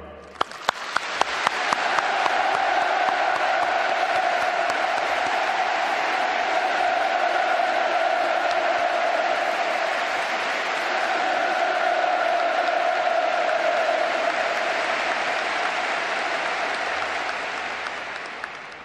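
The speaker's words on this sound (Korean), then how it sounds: "김정은 국무위원장께 아낌없는 찬사와 박수를 보냅니다" Large outdoor crowd in Pyongyang erupts in sustained, loud applause and cheering for a political speech, a dense roar of clapping and voices that starts with a few sharp claps, holds steady for nearly twenty seconds, then eases slightly.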